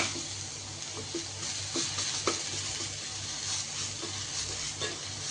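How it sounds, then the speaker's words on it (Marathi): Rava uttapam frying in oil on a pan, a soft, steady sizzle with faint low hum and a few light ticks, quiet and close with no talking. "दोन्ही साईडने आपण छान याला भाजून घेऊया"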